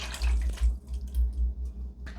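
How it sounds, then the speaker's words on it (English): Canned chicken and its liquid slide into a pot with a short, soft watery slosh and gurgle, heard close and brief. "And next the chicken with all of its liquid as well."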